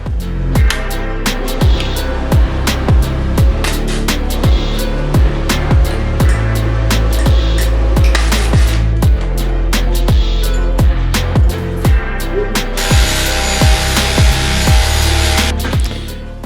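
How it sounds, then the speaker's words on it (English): A loud power grinder runs continuously against metal, cutting a motorcycle fender, with a rhythmic rasp as it cuts, rising to a harsher, brighter screech near the end. "I'm literally using a grinder."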